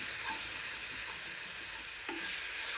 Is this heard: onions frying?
yes